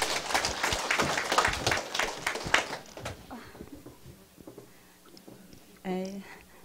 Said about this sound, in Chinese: 我们掌声跟他鼓励一下。